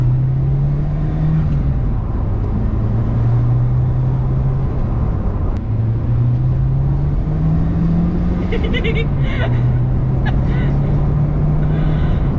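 A 1980s Ford RS Turbo hot hatch drives along, heard from inside with a steady engine drone that rises and falls through gear changes, a continuous loud cabin rumble throughout.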